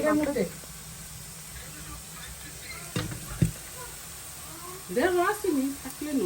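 Chicken frying in a home kitchen pan gives a steady, soft sizzling hiss throughout, with people talking over it at the start and again near the end.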